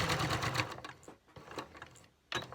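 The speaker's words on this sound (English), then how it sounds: "I'm going to do the stitching coming this way along" Sewing machine fitted with a walking foot stitching through fabric, a close, busy mechanical whirr in short bursts with brief pauses between runs.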